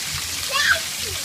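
Rain falling outdoors while a young girl plays in it, a soft wet patter and splashing close by, with people talking over it.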